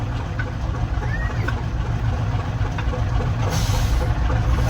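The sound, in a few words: 1966 Kenworth Dart truck engine while backing up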